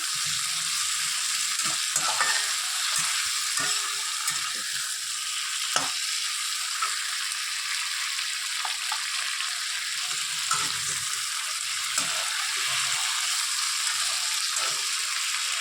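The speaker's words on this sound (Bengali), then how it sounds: "বেশি নাড়তে হবে না, একটু সামান্য নাড়বো যাতে গন্ধটা একটু সুন্দর আসে" Ingredients fry in a pan for masoor lentil dal, a continuous close sizzle with light, occasional stirring scrapes and taps, no speech.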